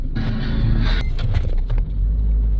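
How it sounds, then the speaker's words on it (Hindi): A car backing up with difficulty on a steep mountain road near Gangotri, engine rumbling loud and steady close by with a low heavy drone throughout. "बैक करने में भी बहुत प्रॉब्लम हो रही है गाड़ी को"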